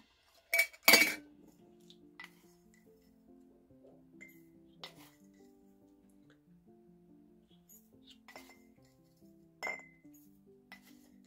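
Tablespoon clinking against glass jars while seasoning is added, a few sharp bright clinks near the start and scattered lighter taps later, over a quiet background with faint soft tones.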